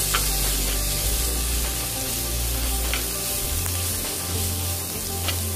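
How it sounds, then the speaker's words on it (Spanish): Onion and minced garlic fry in a pan for a cabbage and Italian-style rice dish, a steady close sizzle and crackle with occasional sharper pops, running continuously without talk. "Lo voy a dejar que se fría un poco más la cebolla."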